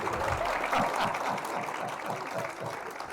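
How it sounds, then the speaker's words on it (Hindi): An audience at a keynote talk claps on request, a dense, steady round of applause that fills the whole moment, close and fairly loud, with no speech over it. "अब मैं हल्के से ऐसे करूंगा, आप ताली बजाना, ठीक है।"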